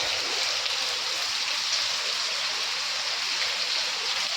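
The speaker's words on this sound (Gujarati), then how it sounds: "એટલો વરસાદ ચાલુ થઈ ગયો છે આજે સત્તર તારીખે" Heavy rain pouring down in a dense, continuous roar, loud and unbroken throughout.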